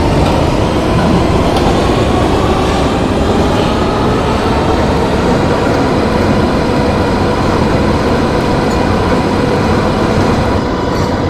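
A PST-2R subway train in a video game rolls steadily along the line, a loud, continuous rumble of wheels and carriage with faint rhythmic clatter and occasional squeal, heard alone throughout.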